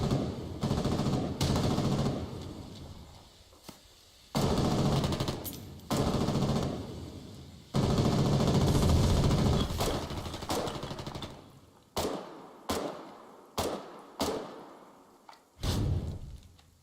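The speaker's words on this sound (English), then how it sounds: "artillery and small arms are landing everywhere" Artillery and small arms fire in the war game Foxhole: bursts of rapid gunfire and heavy thudding impacts, some long and sustained, others short sharp shots separated by gaps, loud and close with no talking.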